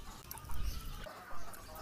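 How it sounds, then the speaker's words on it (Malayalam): Several varieties of chickens, including native roosters and laying hens, cluck in a pen, with short low bursts of clucking and general coop noise at moderate distance. "ഇതിൻ്റെ ഉള്ളിൽ നിറച്ച് കോഴിയുടെ പല വെറൈറ്റി കോഴികളാണ്"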